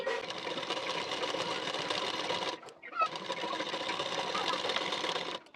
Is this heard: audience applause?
no